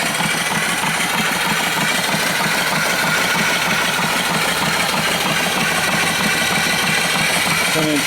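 Twin cylinder steam engine with reverse and an antique flywheel running on a boat boiler, a loud continuous mechanical chuffing and clatter with a fast, even rhythm, heard close up throughout.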